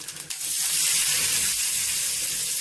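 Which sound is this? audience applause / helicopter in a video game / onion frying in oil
onion frying in oil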